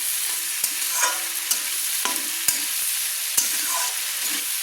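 Vegetables and slit green chillies sizzle steadily in a pan while being stirred for a vegetable dal, with sharp scraping clicks of the spoon at irregular moments over the constant frying hiss.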